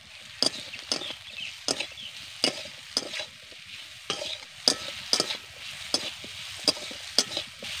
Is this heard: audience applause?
no